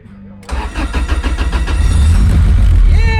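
A Toyota AE86 cranks with a rapid starter chatter and catches, its engine firing loudly right up close and settling into a rough, rumbling idle, after a quiet start with a faint voice.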